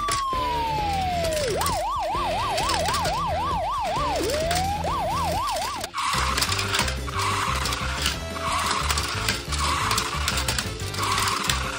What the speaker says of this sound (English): Police cars are coming!